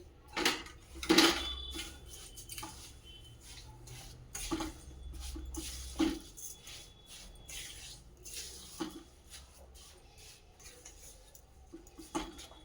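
Sugar is stirred into a lemon pickle with a spoon, making intermittent scrapes and clinks against the bowl with quiet pauses between strokes.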